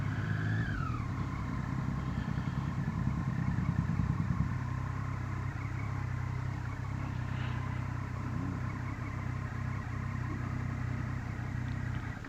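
A motorcycle engine runs steadily at low revs while being ridden slowly into a parking spot on a Sunday ride to Finchingfield, with a brief rising note early on and continuous traffic rumble around it.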